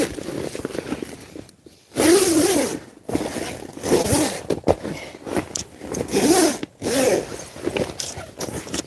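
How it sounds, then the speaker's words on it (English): A KingCamp tent's bug net zipper is drawn in several bursts of rasping zipping, fairly close and loud, with short pauses between pulls and no talk. "And I'm going to re-zip the bug net."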